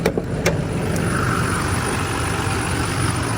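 A Duramax diesel pickup truck engine idling, a steady low rumble close by with a couple of faint clicks near the start.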